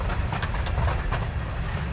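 A small ride-on choo-choo train for passengers runs past nearby with a continuous rolling rumble and faint rhythmic clatter, steady and fairly loud across the whole moment with no talking.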